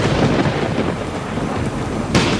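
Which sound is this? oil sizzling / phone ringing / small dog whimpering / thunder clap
thunder clap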